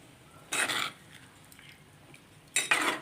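A spoon scrapes and clinks around a pot of sardine curry in two short bursts about two seconds apart, with quiet kitchen stillness between them.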